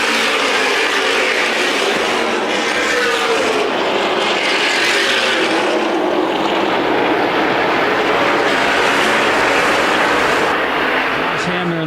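Race cars at a CRA Super Series race at Winchester roar steadily as the field restarts, a dense, loud engine wash lasting throughout while a commentator's voice talks over the racket.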